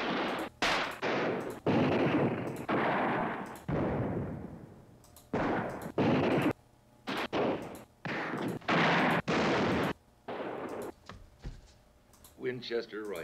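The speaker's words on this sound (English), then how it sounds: "Winchester rifle." Winchester rifle gunshots from a sound effect library, a string of sharp loud cracks with decaying tails, fired irregularly and alone.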